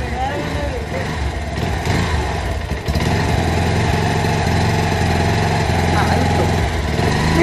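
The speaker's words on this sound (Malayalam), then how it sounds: "നമ്മളെ ഷൂവിൻ്റെ മുകളിൽ കൂടെ നമ്മൾ ബൈക്ക് കയറ്റാൻ പോവുകയാണ് ചെയ്യുക" A motorcycle engine runs steadily at close range while the bike is ridden up over a pair of shoes, a loud continuous drone with a brief dip near the middle and a voice talking over it.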